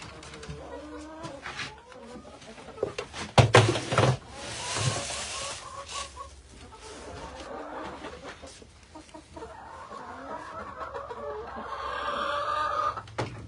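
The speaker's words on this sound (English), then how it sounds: "The chickens stay in there." Chickens cluck and squawk inside a coop at dusk on a farm with goats, several birds calling intermittently at moderate distance, with a louder burst of calls partway through.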